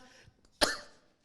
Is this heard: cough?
yes